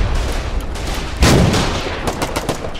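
Heavy tank cannon fire in the armored warfare game Foxhole, a loud booming blast about a second in, followed by continuous distant gunfire and battle rumble.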